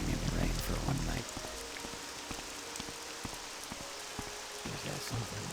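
Rain falls in The Elder Scrolls III: Morrowind, a steady hiss of drops pattering on surfaces, louder at first then settling into a softer continuous patter with scattered distinct drips.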